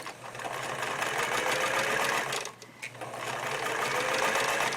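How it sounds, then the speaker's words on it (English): Older Singer model 239 straight stitch sewing machine stitching binding, a fast steady mechanical whir and chatter close by, pausing briefly midway before resuming at the same pace, no talking. "I'm working on a Singer model 239, so this is an older machine and it doesn't have a needle up and down position."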